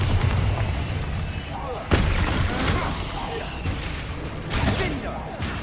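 Bombarda spell explosions in the video game Hogwarts Legacy go off as loud blasts amid combat, with sharp bursts near 2 and 4.5 seconds over a rumbling, busy fight background.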